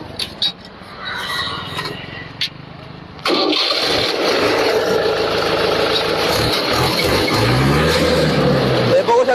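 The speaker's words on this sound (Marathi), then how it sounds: "ट्रॅक्टर मी तुम्हाला चालू करून दाखवतो." A 2018 Mahindra 575 Sarpanch tractor starting up. Quiet handling noises and a brief voice come first, then the engine cranks and catches into a loud, steady diesel rumble that runs close by until the end.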